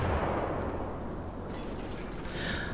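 Naval gunfire from the cruiser Atlanta in World of Warships, a low continuous rumble of distant salvos with a few faint sharper cracks, fairly quiet and with no voices.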